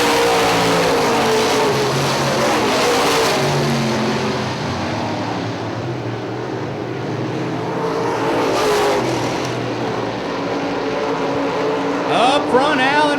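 UMP late model race cars roar around Hartford Speedway, their engines droning and revving as they pass, with an announcer talking over the track noise throughout.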